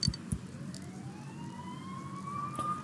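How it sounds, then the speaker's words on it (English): Police sirens wail nearby in the video game Persona 4 Golden, a steady rising tone sweeping upward and holding over a low background rumble, with a couple of short thumps at the start. "You hear sirens nearby."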